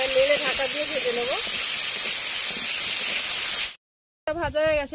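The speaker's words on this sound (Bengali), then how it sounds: "এবার নেড়ে ঢাকা দিয়ে ভেজে নেব।" Potatoes fry in mustard oil with salt in a covered wok, a steady loud hiss that cuts out briefly near the end before resuming, with a faint voice-like tone over the sizzle.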